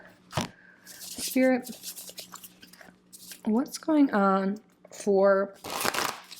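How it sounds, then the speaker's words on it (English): Tarot cards from a large deck are shuffled in parts in a few quick riffling bursts, close by, interleaved with a person speaking. "This deck's so big, I'm shuffling it in part."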